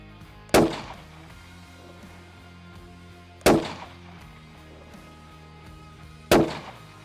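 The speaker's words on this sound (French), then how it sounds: "OK, je tire." A rifle fires economy subsonic ammunition at an outdoor range, three sharp, loud single shots spaced about three seconds apart, each with a short decaying tail and no talk between them.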